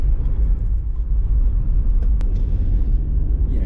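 Rover 25 1.4 hatchback driving along, a steady low road rumble and engine drone filling the cabin continuously, with one brief sharp tick partway through.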